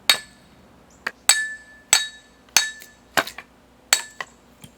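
A hatchet splits small pieces of firewood in a run of about eight sharp, close strikes, each a crisp crack with a brief metallic ring, spaced unevenly with short pauses between blows.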